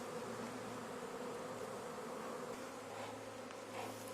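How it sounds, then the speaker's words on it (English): Honeybees drone in a dense, continuous buzz close around a hive frame being handled, steady throughout with no voices. "So my nurse bees are going right inside."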